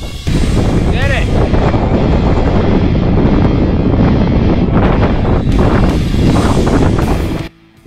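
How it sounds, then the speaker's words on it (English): Strong wind roars across the exposed 5,343-foot summit of Mount Marcy, New York's highest peak, buffeting the microphone in a loud, continuous gusting rush for nearly the whole stretch before cutting off abruptly at the end. "You see how freaking windy it was up there?"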